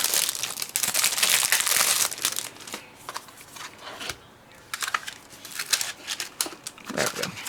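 Crinkly plastic packaging of a Diamond Press Autumn Window Foliage stamp and die set is opened close up, with loud bursts of crackling and rustling that ease off, then sharp crinkles returning in uneven handling bursts.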